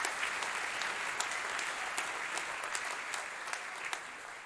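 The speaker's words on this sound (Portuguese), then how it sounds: "Você pode aplaudir ao nome do Senhor Jesus por isso?" A church congregation applauds in praise of Jesus, steady dense clapping filling the room from start to finish at moderate distance, with no voices above it.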